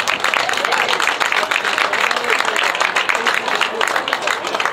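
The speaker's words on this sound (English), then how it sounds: "let's give these officials a round of applause" Steady round of crowd clapping for the match officials after a Remembrance Cup Final football game between New Street FC and Village Hotel, a continuous dense patter of hands lasting throughout.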